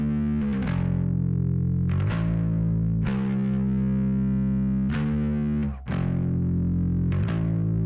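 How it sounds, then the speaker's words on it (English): An electric bass played through heavy overdrive with the chorus effect switched off. It plays sustained, gritty, distorted notes, changing pitch every second or so, loud and alone. "You're going to want to take the chorus off and engage a pretty heavy kind of overdrive."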